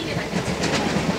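A Vande Bharat express train passes a local train at a station, producing a steady rolling rumble with rhythmic wheel clatter throughout, fairly close and continuous over a noisy platform background.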